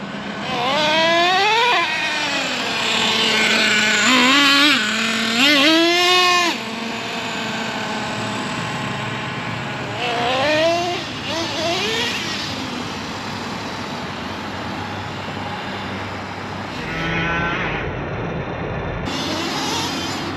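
A worn-out Traxxas T-Maxx nitro RC truck engine warms up on grass after a service, its high buzzing whine rising and falling in quick revs, loud and close, then settling into a steadier drone.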